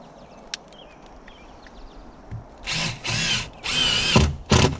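A power drill whirs in several bursts of rising intensity as it drives a gold screw into gable sheeting for shingle siding, with short pauses between spurts and faint background noise before.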